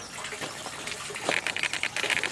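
Water from outdoor Dutch buckets for tomatoes draining back into a catch basin, a steady trickling gush with brighter splashy drips growing livelier near the end, close and continuous.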